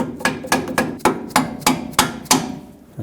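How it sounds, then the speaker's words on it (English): A hammer taps a bolt down into the lower strut mount of a 2015-2020 Ford F-150 front suspension: about nine sharp metallic strikes at a steady, quick pace, close and alone. "Just push it and then tap the bolt down."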